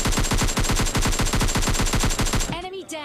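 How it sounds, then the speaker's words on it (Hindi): Rapid automatic gunfire from a PUBG Mobile Lite match, a loud, steady stream of closely spaced shots that stops abruptly near the end, leaving a brief quieter tail. "इधर से हो रही थी गंदी वाली फायरिंग"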